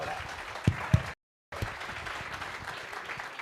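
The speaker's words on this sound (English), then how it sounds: "Let's give them a round of applause." A studio audience at a South African chat show gives a round of applause, moderately loud clapping with a few sharp close claps, briefly cut by a gap of silence before resuming.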